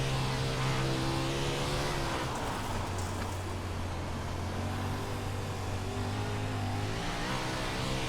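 A race car on a track accelerates with a steady, loud engine drone and shifting pitch over several seconds, heard alone without talk.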